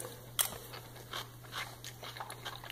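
A spoonful of cowboy caviar is being tasted: quiet crunching and chewing close to the mic, with one sharper bite near the start, then softer irregular munching and no talk.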